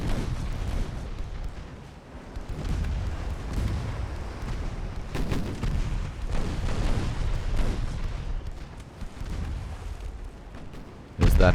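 Naval guns fire at enemy ships in the Ultimate Admiral Dreadnoughts game during a 1908 French campaign battle at Cam Ranh Bay, making repeated low booms over a continuous rumbling battle bed, with a loud hit at the end.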